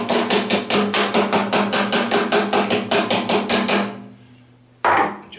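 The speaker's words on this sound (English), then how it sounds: "I'm going to get my little horseshoeing hammer." A small horseshoeing hammer taps steadily on a snow blower auger bearing, about sixteen quick, evenly spaced metallic strikes up close, then a pause before one louder final knock.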